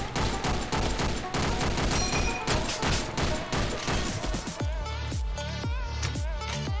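Rapid rifle gunfire from the top-down shooter OTXO, a dense fusillade of sharp, close shots followed by a slower string of spaced single rounds with ringing decay and game music underneath.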